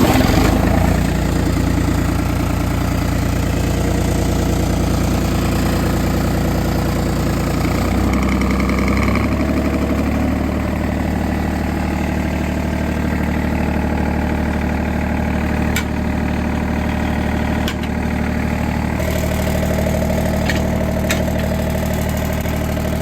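A vintage John Deere tractor fitted with a loader runs at idle, a loud, steady low engine rumble with a slight knocking throb, shifting tone briefly near the start and holding close and constant.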